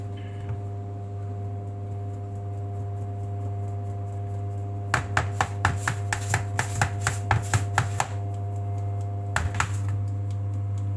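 Pa thong ko (Thai fried dough) being kneaded by hand: a quick burst of rhythmic slaps and pats, then a couple more later, close by over a steady electrical hum.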